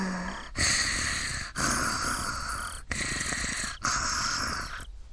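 Snoring from a sleeping girl in the Higurashi visual novel, heard as four long, loud, rasping breaths in a slow, even rhythm with brief pauses between them.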